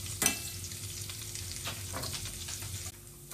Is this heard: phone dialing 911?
no